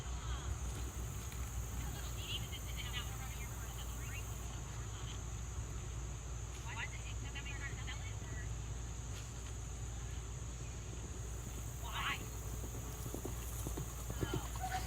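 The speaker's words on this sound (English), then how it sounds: "That horse is not having it." Horse hooves clip-clop in a steady rhythm against a constant hiss of background noise, with insect-like buzzing and people talking over it.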